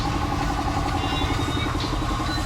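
A 4x4 vehicle engine idling nearby, a steady low rumbling drone with a faint mechanical clatter and no break for the whole stretch.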